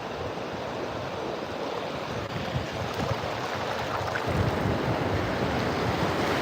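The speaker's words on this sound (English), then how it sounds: "and Trixie, who just really, really loves the ocean" Ocean surf rolling steadily onto a beach, a continuous broad wash of breaking waves with wind noise over the microphone, building slightly louder toward the end, no voices.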